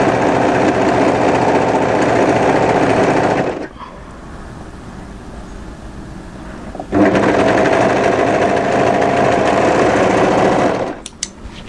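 An overlocker serges through three layers of fabric for a cowl-neck top, running in two loud, steady bursts of rapid mechanical whirring, with a quieter pause between them and a few clicks at the end.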